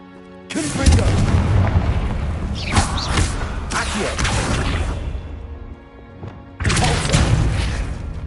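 Bombarda blasting spell cast in the Hogwarts Legacy video game, heard as loud booming explosive bursts with crashing debris, one big blast early and another near the end, amid game background sound.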